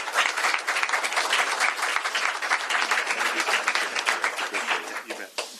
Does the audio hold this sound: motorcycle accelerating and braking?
no